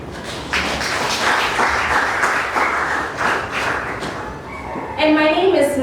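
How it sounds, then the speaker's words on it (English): Scattered audience clapping greets contestants at a junior high school quiz contest, running under a presenter's voice, with a brief tone-like sound near the end. "This is a good place to clap for them."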